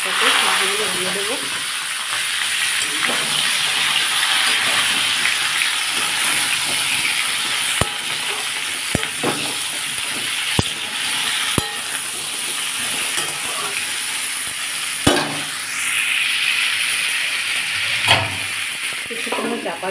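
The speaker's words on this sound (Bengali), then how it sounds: "এবার আমি এর মধ্যে সবজিগুলো দিয়ে দেবো। কুমড়ো, টমেটো, আলু সব একসাথে সবজিগুলো দিয়ে দেবো।" Pumpkin, tomato and potato pieces frying together in a pan for a prawn and greens dish, giving a steady, loud sizzle and hiss with occasional sharp clicks of stirring throughout.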